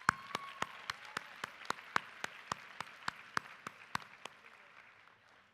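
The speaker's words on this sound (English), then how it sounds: "Please give yourselves a round of applause." Steady, evenly spaced hand claps at an annual awards ceremony at The Ohio State University, about seventeen sharp, fairly close claps in a regular rhythm that fade out near the end.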